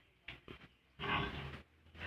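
A sow on a farm grunts in several short bursts followed by a longer, louder grunting stretch, fairly close with no talk over it.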